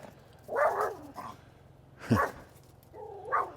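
A dog gives three separate barks, close and clear, spaced over a few seconds, with a rising yelp-like quality on the middle one.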